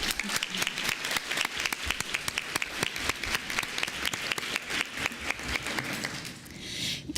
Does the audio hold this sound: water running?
no